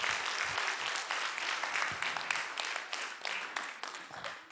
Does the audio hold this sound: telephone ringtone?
no